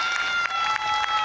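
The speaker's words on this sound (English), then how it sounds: "Some yalla from the crowd for that one." Crowd at an Egyptian Open squash match cheering and applauding after a rally, a dense steady roar of clapping and shouts from a packed hall with a few louder bursts, no clear speech.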